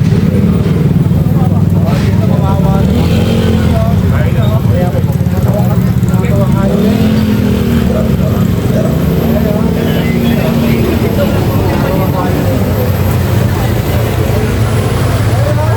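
A loud motorcycle engine rumbles steadily nearby while people talk over it.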